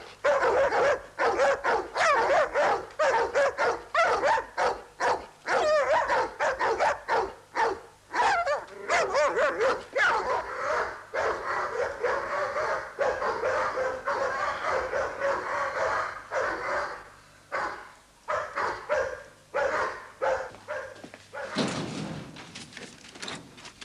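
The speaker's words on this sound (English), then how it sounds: "Whose are the dogs, then?" Several dogs bark loudly and repeatedly in rapid, overlapping bursts, close by and nearly continuous, with a few yips and whimpers mixed in before a door-like thud near the end.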